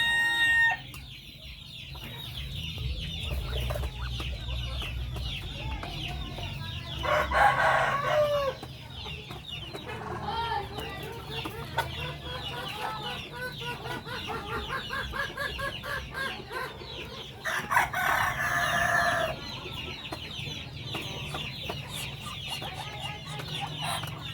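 Darag breeder chickens at feeding time, steady clucking throughout with two loud rooster crows rising clearly near the middle and the end, close and busy over a low background hum.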